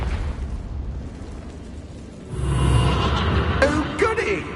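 A Confringo spell in the video game Hogwarts Legacy bursts with a booming, rumbling explosion partway through, following a quieter stretch, then fades into crackling debris.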